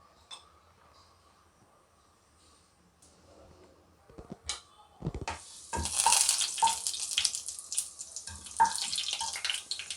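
After a near-silent start with light handling, cumin and mustard seeds hit hot oil and set off a steady sizzle dotted with small sharp pops, close and moderately loud.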